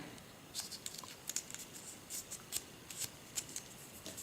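A cut-out sheet of paper is folded in half and then folded again, giving soft, close crinkling and papery rustles in short bursts over a quiet background.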